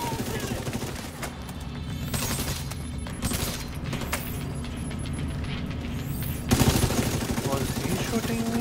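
Gunfire in the video game The Division 2 rattles in steady bursts throughout, with a louder surge near the end amid the game's mechanical background noise.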